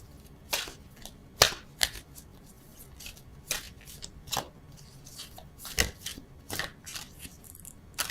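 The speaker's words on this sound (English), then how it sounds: "I'm going to just pull one of these beastly cards" Tarot cards being shuffled and pulled from a deck, heard as a series of crisp, close, sharp riffling snaps and soft slides at an irregular pace, fairly quiet, with no talk.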